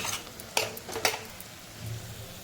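Vegetables dusted with garam masala are stirred in a cooker pan at home: a utensil scrapes and two sharp metallic clanks stand out over a low, soft sizzle.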